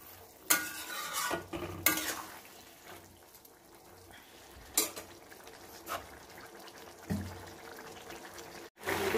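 Squash curry simmering in a pot and being stirred, with a soft bubbling hiss beneath repeated scraping and knocking of a spoon against the pot, the clatters spaced irregularly across the stretch.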